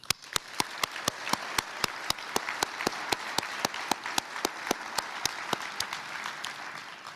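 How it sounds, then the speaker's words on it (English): An audience at an MLK Day community celebration applauds steadily, with a few sharp, close claps in an even rhythm standing out over the softer clapping of the crowd. "A big round of applause to our former speakers."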